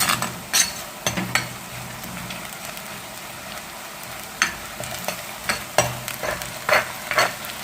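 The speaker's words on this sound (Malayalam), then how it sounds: "ഇനി ഇതൊന്ന് ശരിക്കൊന്ന് മൂപ്പിക്കുക" Ground black pepper and chilli powder roasting in a pan for a duck curry, with intermittent scraping and clinking of a spoon stirring over a low sizzle, close up and without talk.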